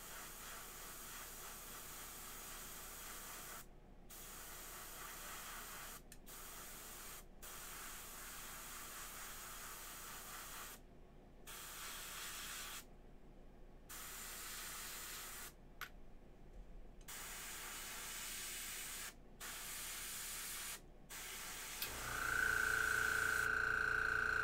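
An airbrush sprays paint onto a McFarlane Hellblaster Primaris marine figure, giving a steady close airy hiss in long bursts with brief pauses, ending with a higher whine.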